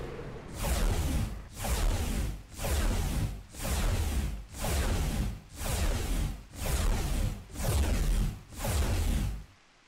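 A series of nine evenly spaced whooshing bursts from an explosion spell in the game Citadel: Forged with Fire, each a loud roaring swell that fades before the next.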